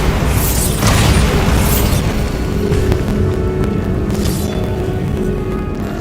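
Bombarda blasting spell from Hogwarts Legacy, a loud game explosion with deep rumbling boom and crackling debris, sustained loud throughout with bursts near the start and around four seconds.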